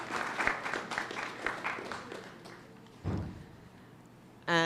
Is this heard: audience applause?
yes